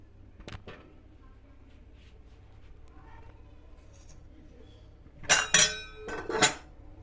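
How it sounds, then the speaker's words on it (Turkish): A spoon stirs reyhan (basil) sherbet, first with faint scrapes, then a burst of bright, ringing clinks against the container in two quick clusters near the end, close and clear. "Şöyle güzelce karıştırıyoruz."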